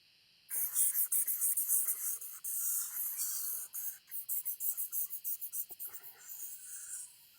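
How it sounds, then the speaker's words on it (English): A pen or marker scribbles rapidly on paper, close and crisp, in bursts of quick back-and-forth strokes that turn into an even rhythmic scratching toward the end, with no speech. "the sound of your pen on the paper"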